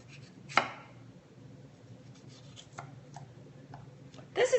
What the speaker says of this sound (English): I'm just going to slice them like so, like this. See how I'm slicing them that way?